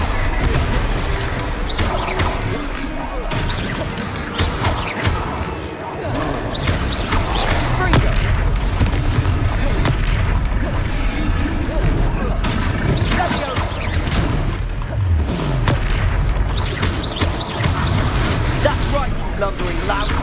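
Fire spell blasts boom repeatedly in a Hogwarts Legacy battle, thick with rapid explosive bursts and impacts over a loud, dense game mix, while characters shout and talk throughout.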